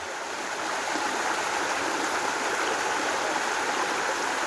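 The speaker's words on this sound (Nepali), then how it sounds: "मेन खोला चाहिँ यहाँबाट रहेछ है" A mountain stream in a village hiking area flows steadily, a continuous broadband rush of water that stays even and fairly loud throughout with no voices.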